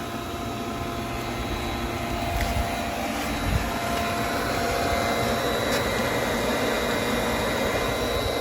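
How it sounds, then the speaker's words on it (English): Swimming pool filter pump running steadily after a check valve installation, a continuous broadband motor hum and water rush holding at constant loudness throughout, with no speech. "started up the filter and the pump's running"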